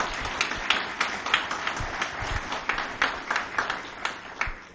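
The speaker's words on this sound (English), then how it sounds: "can we give him another round of applause?" Scattered, fairly faint applause from an audience at a county government address, a thin patter of individual claps rather than a full ovation.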